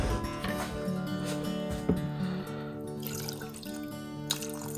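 Water is poured into a container and drips for about five seconds, a steady trickle set against a busy tonal background with no talking.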